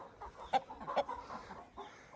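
Desi hens clucking around a farmyard, with two short, sharp clucks standing out among softer, scattered calls from a flock that is nearby but not loud.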